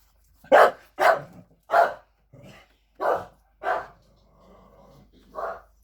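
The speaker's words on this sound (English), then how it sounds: "My dog's barking." A dog barks repeatedly, about seven sharp barks spaced roughly half a second apart, close and fairly loud, with no one talking.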